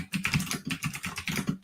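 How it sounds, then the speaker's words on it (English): Rapid, uneven keystrokes on a computer keyboard as a message is typed, close and clear with brief pauses between bursts, no voices. "I'm just typing a message."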